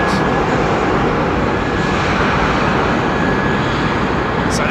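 An airliner with GE90 jet engines roars loudly and close at Heathrow, a dense, steady broadband rumble filling the whole stretch.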